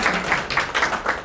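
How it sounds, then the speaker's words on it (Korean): A small lecture audience gives a brief round of clapping for a guest painter after a talk on metaverse, NFTs and art, a short burst of hands clapping at close range lasting about a second. "오늘 너무 좋은 강의 해주신 우리 프랭키 배 화백님한테 뜨거운 박수."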